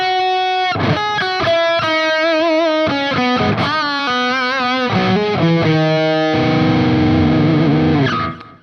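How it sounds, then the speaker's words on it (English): Electric guitar played with heavy distortion, loud and sustained chords and notes ringing through nearly the whole stretch before cutting off at the end, with no talking over it. "funny playing that with heavy distortion"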